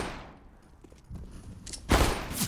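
Gunfire in a CS:GO competitive match: a few faint scattered shots early on, then a loud, dense burst near the end with another swell just after, with no talk over it.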